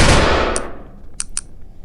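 A modded gun fires in the Melon Playground video game. A dense burst of rapid game gunfire fades out, then a few sharp separate shots follow, loud and close, with no voice.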